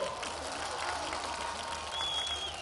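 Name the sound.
crowd applauding at a political rally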